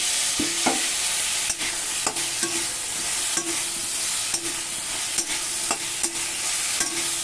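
Spice paste for a pakal fish curry frying in a pan: a constant bright sizzle is punctuated by regular scraping strokes of a spoon stirring, roughly every half second to second, close and clear.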